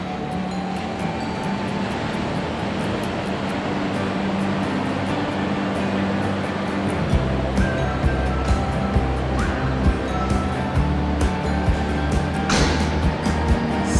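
Ocean waves rolling onto Itanhaém beach, a steady broad wash of surf below a sea-view apartment, with a deeper surge building partway through and faint distant traffic-like hum.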